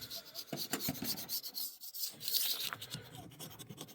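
A metal file rasps along a chainsaw bar rail to dress it clean, with repeated close, scratchy strokes in an uneven rhythm and a brief pause in the middle.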